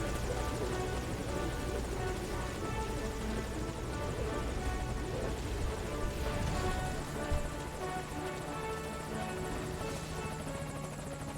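A helicopter in the video game Metal Gear Solid V: Ground Zeroes produces a continuous, dense rotor and engine roar that stays steady and fairly close throughout, with a brief thump partway through.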